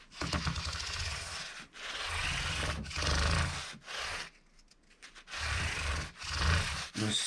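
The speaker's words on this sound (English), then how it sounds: "So I'm just going to take 1500 grit, the foam block" Sanding a guitar finish by hand with 1500-grit paper on a foam block, close and steady: a series of rhythmic back-and-forth rasping strokes broken by brief pauses.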